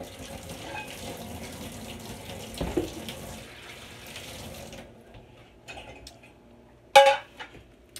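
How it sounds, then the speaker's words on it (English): A kitchen tap runs steadily while hands are washed, a soft continuous hiss of water that stops partway through, followed by a few brief clinks and a sharp knock. "Just wash my hands."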